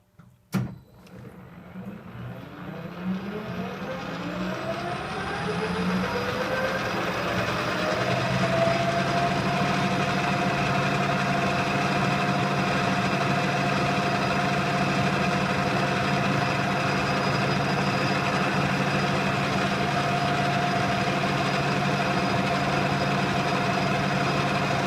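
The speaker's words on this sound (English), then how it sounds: "So we'll just do a skim bore on that. Okay, I have a boring bar in there, and I'm just going to take off a whisker." A lathe spins up with a rising whine after a sharp start click, then settles into a steady machine hum while a boring bar takes a light skim bore, running alone without talk.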